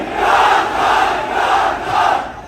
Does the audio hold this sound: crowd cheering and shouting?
yes